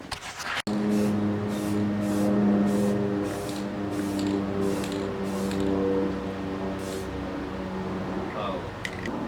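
Rust-Oleum spray paint hisses from a can in a series of repeated short bursts, close and fairly loud, with some talking in the background.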